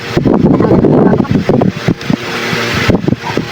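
A loud, close electric fan clogged with tangled hair whirs steadily with a rough, fluttering hum and occasional thumps.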